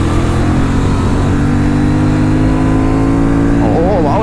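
A Honda Transalp 750 motorcycle in sport mode pulls hard in fourth gear on a highway, a loud, continuous engine drone that rises in pitch near the end.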